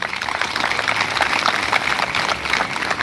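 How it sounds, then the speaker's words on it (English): Dense, steady applause from a crowd at a secondary schools festival closing ceremony, sustained clapping without pause for a few seconds. "Can we clap for that boy?"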